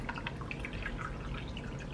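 Ocean Spray white cranberry strawberry juice pours into a glass in a steady, close, bubbling trickle, with no talking.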